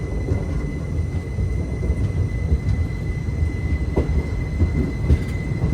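Sai Nagar Shirdi to Tirupati Express running between Guntakal and Tirupati, a heavy steady rumble of the rolling carriages heard from on board, with a thin wheel squeal over it and faint clicks.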